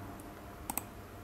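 A computer mouse clicks twice in quick succession, close and sharp, while oscilloscope software on a Hantek PSO2020 pen-type digital scope is operated, against a quiet background.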